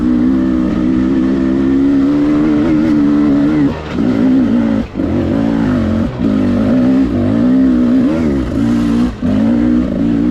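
A 2022 Beta 300 Race Edition dirt bike engine on its first ride, loud and close, droning steadily with brief dips and rises as the throttle eases off and picks back up.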